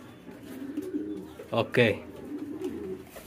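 Lakkha fantail pigeons coo nearby, low rolling calls with a louder burst in the middle, while a person speaks briefly.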